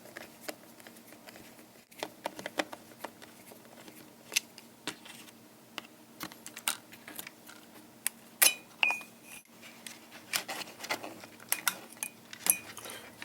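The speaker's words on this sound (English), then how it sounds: "utilizing a 1/4-inch nut driver, remove the capacitor" Metallic clicks and small taps from a 1/4-inch nut driver working loose a speaker capacitor inside a Twilight Zone pinball machine, close and quiet, irregular light clinks with a brief squeak, no talking.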